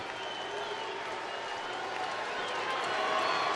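Large baseball stadium crowd of about 42,000 at a night game applauding and cheering steadily, a broad wash of clapping and voices that swells slightly toward the end.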